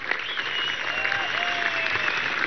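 A crowd at a commemoration ceremony claps steadily for a woman, the dense applause sustained and moderately loud, with faint whistle-like tones drifting over it.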